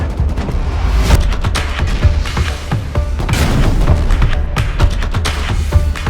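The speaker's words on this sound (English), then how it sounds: "One soldier was specifically shooting incendiary rockets into the sky" In the Rust video game, incendiary rockets burst over a base in a rapid, loud barrage of booms and blasts that overlap into a dense, rolling roar of gunfire and explosions.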